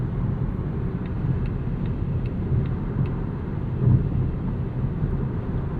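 A 2024 Volvo XC40 Recharge single-motor electric SUV accelerating at half throttle, heard from inside the cabin as a steady, muted low rumble of road and drivetrain noise with a faint whine above it.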